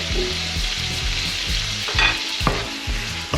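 Cuttlefish fries in a pan with a pinch of salt, giving a loud, constant sizzle and crackle up close, with no voices and a few sharper spatters and stirring scrapes on top.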